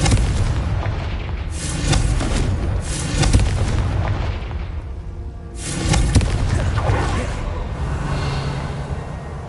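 Loud, heavy magical blasts from the Confringo fire spell in Hogwarts Legacy, a series of deep booming explosions with rumbling tails, spaced a few seconds apart.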